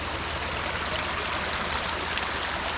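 A small waterfall on Miners Gulch Road, an off-road trail, rushes with a steady, even wash of water, constant and moderately faint, with no voices.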